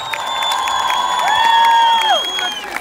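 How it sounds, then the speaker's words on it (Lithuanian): A large outdoor crowd cheers and applauds for the Šiauliai city mayor at the 2018 Šiauliai city days festival, a loud, sustained roar with whoops and shrill tones riding over it. "Jūsų aplodismentai Šiaulių miesto merui."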